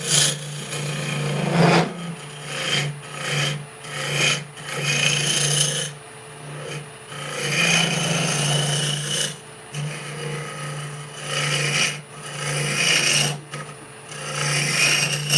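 A lathe roughs out green hawthorn wood, the gouge giving repeated bursts of harsh rasping and scraping over a steady low motor hum, with brief pauses between cuts.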